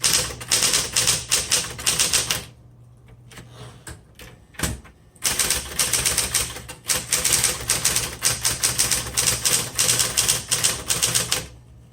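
Rapid typing on a 1960s Smith Corona Electra 120 electric typewriter, loud close keystrikes in two bursts around a short pause, with the machine's steady motor hum beneath.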